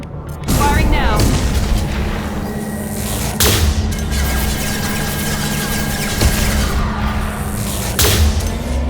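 A gunship fires in the Mass Effect 2 video game, loud booming blasts and heavy impacts over a continuous battle rumble, with voices speaking amid the fire.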